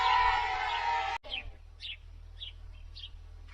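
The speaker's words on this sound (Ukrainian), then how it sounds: "Цвірінькають, вітаючи мене." Birds chirp in short, bright tweets that repeat at a steady pace. A louder burst of noise comes first, and then several clear chirps stand fairly close against quiet.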